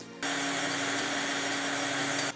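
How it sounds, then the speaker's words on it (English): Power drill boring steadily into a computer case while moving a 486 build, a loud continuous whining drone that starts abruptly, holds for about two seconds and cuts off. "I am definitely not using the right kind of drill bit."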